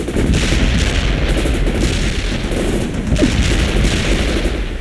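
Dense, continuous gunfire roars through a video game battle against insurgents, with overlapping loud bursts and booms forming an unbroken, close-up barrage.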